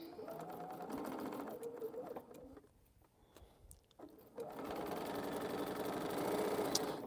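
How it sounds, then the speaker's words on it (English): Sewing machine chain piecing quilt fabric, its whir steady, dropping briefly to quiet for about a second midway, then resuming at a moderate level. "I'm just sewing on anything else that I can sew on so I don't have to break my thread"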